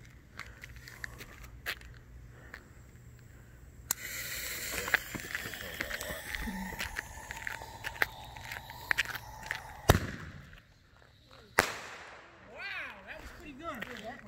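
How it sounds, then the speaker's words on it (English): A Top Gun Fireworks fireball firework goes off outdoors with hissing, crackling bursts and a few sharp pops over several seconds, while people talk nearby. "Now we got a fireball by Top Gun Fireworks."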